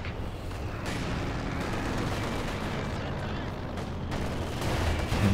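Mortar barrages in a Company of Heroes 2 match pound an anti-tank gun position, a dense, continuous wash of overlapping blasts and battle noise running steadily throughout, loud and near, with a voice faintly present underneath.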